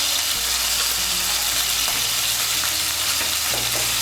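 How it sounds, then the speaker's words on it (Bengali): Paneer pieces frying in hot oil in a kadai, a continuous close crackling sizzle with occasional stirring knocks and bubbling, loud and steady with no voices. "তেলটা গরম হয়ে গিয়েছে, এর মধ্যে পনিরের টুকরোগুলো ভেজে নিচ্ছি।"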